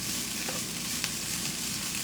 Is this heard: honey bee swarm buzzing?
no